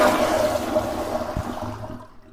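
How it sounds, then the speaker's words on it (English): A commercial toilet flushes through a spud connection, a rushing water surge with a gurgle near the end, tapering off over a couple of seconds, no talking. "Another flush."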